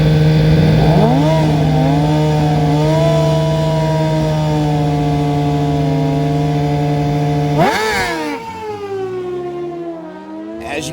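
Suzuki GSX-R1000 litre-class sport bike engine screaming at high revs as it accelerates into a wheelie, a loud sustained whine that rises, holds, then surges and drops off near the end.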